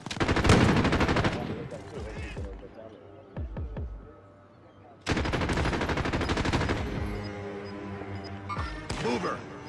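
Bursts of rapid automatic gunfire in Call of Duty Warzone Resurgence on Rebirth Island, loud dense volleys with a few isolated shots in a lull, close and sharp, with players talking over it.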